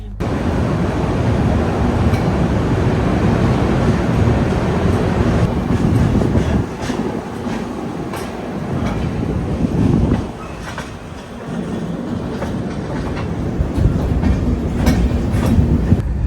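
A train in Kerala runs at about 110 km/h on a high-speed section near Palakkad and Shoranur. The rumble is loud and steady from on board, with rhythmic wheel clatter, brief dips and sharp clicks over rail joints.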